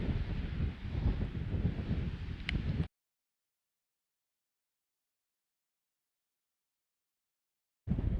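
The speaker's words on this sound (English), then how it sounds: "A lot of wind as you can see." Strong wind outdoors at City of Rocks buffeting the microphone with loud, rough rumbling gusts for about three seconds, then sudden silence before the wind noise returns at the very end.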